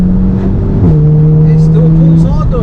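Heavily tuned 420 bhp four-wheel-drive Skoda Superb accelerating hard, heard from inside the cabin as a steady loud engine drone whose pitch climbs through a gear change, with faint voices underneath.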